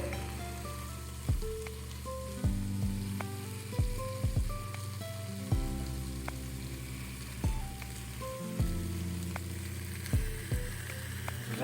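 Orzo toasting in a hot pan for a creamy mushroom orzo gives off a steady, close sizzle with occasional crackles, running under background music with distinct melodic notes.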